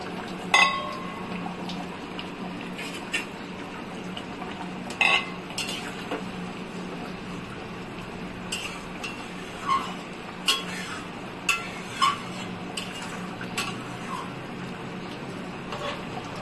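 Lentil dumplings and katla fish pieces go one by one into a simmering fish curry, with scattered clinks of a utensil against the pot over a steady low bubbling, the small impacts spaced irregularly.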